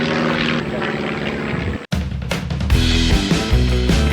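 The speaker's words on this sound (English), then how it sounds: "Oh, plane." A propeller airplane passes overhead, its engine drone steady and fairly loud, cutting out briefly before returning stronger and rougher.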